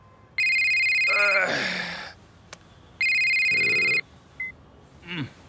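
A telephone rings twice in loud electronic bursts, each followed by breathy sounds and movement before a short pause.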